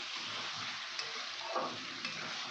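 Onion frying in a pan for a Bengali egg curry, a steady soft sizzle with faint stirring scrapes, close and quiet, no voices.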